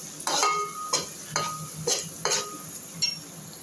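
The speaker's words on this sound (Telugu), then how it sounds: "దీన్ని పేస్ట్ ఆయిల్లో వేస్తున్నానండి." Garlic paste frying in oil, a soft ongoing sizzle punctuated by about six crisp spatula scrapes against the pan at a steady pace.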